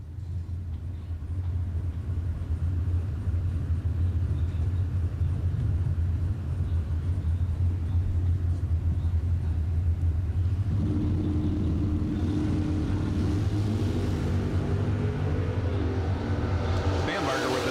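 Bracket drag racing cars sit in a steady, loud low rumble, then launch with rising engine roar and revving near the end, with crowd or announcer voices mixed in.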